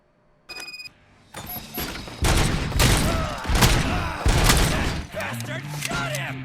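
Gunfire in RoboCop: Rogue City, with a sharp burst early on, then loud, sustained volleys of rapid shots and clattering impacts that run continuously near the listener, mixed with game effects and brief shouts.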